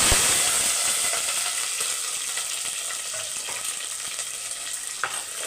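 Curry leaves fry in oil inside a clay pot, giving a loud, dense sizzle that starts strong and eases slightly over several seconds, with a small sharp crackle near the end.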